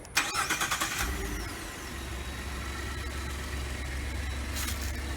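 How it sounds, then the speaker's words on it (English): A 2015 Ford F-150 Lariat EcoBoost pickup starts by remote start: a short burst of cranking, then the engine catches and settles into a steady, fairly close idle with a low rumble. "this truck does come with remote engine start. Just simply hit lock and push the remote start button twice."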